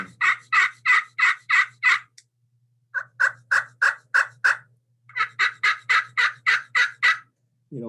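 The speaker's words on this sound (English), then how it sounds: "while I'm calling with the slate, if I want to make it sound like multiple birds" A series of raspy turkey yelps from a slate call, in three runs of six to eight notes each, close and loud with short pauses between runs.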